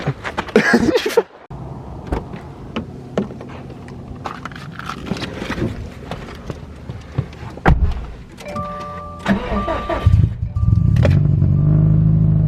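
A Subaru STI car shifts into gear and pulls away, with door thunks and a power-window whir among close engine and road noise that swells into steady driving rumble near the end.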